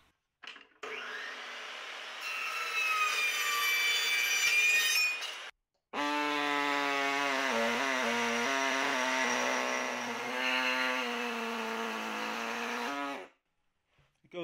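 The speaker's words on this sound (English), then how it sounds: "I'm going to cut a piece out of some aluminum angle that I have" Saw cutting through a piece of aluminum angle stock in a workshop, two sustained loud cutting passes with a short pause between, steady harmonic whine that shifts pitch as the blade loads up, no talking.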